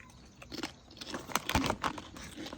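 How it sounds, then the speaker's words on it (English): Crisp, irregular crunches from someone biting and chewing Uglies barbecue potato chips up close, a handful of sharp bites then softer chewing, fairly quiet with no talking. "Listen to that crunch"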